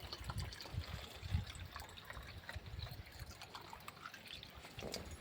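Water being poured into a container outdoors on a hot, sunny day, a steady low splashing and trickling stream that runs throughout at moderate, close range with no talk.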